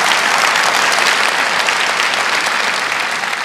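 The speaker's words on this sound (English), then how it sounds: "Let's give them all a round of applause" Audience at a county government address gives a loud, sustained round of applause, dense and even throughout, with no voices over it.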